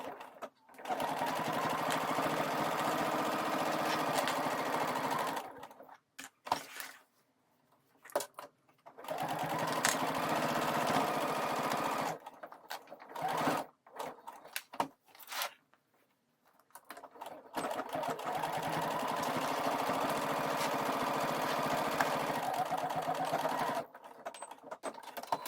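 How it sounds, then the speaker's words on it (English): A sewing machine fitted with an AccuFeed foot stitches a messenger bag gusset in several sustained whirring runs, broken by short pauses and quiet gaps. "So I'm going to actually put this on to sew it."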